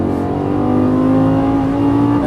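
A Lamborghini Gallardo LP550 accelerates on a race track, its engine droning loud and close in a steady tone that climbs slowly in pitch as the revs build.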